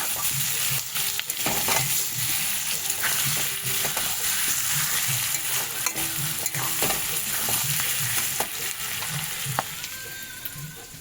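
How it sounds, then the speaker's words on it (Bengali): Garlic paste stirred and fried in a pan, a loud continuous sizzle broken by repeated rhythmic scraping strokes of the spoon, close up with no talking. "এক চামচ রসুন বাটা নিয়ে ভালো করে নাড়িয়ে ভালো করে কষতে হবে"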